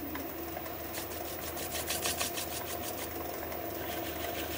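A wood lathe spins up a fruit bowl blank: a steady, close mechanical hum and whir with an even rhythmic pulse, constant in level, with no talking.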